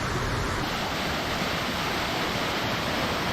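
Yangpokpo waterfall in Cheonbuldong Valley on Seoraksan pours in a steady, dense roar of rushing water, loud and unbroken throughout with no voices.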